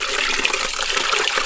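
Pork intestines are rubbed and washed with flour and water by hand, giving a short, close burst of wet sloshing and squelching, with no talk.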